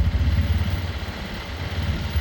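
A Bashan 250 cargo quad bike engine runs cold with a steady low, slightly uneven chugging throb, close and continuous.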